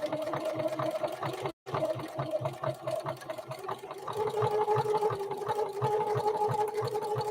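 A contemporary Necchi NE30 sewing machine strains to feed fabric as it stitches, with a steady, rapid needle rhythm that pauses once for a split second and then resumes, close and fairly loud.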